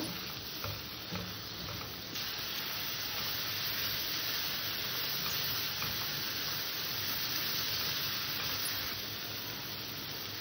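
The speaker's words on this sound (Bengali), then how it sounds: "নেড়ে চেড়ে একটু ভাজা ভাজা করে নেব।" Hog plum pieces stirred and fried with salt and turmeric in a pan, giving a steady broadband sizzle with soft scraping stir strokes throughout, close and continuous, no talking.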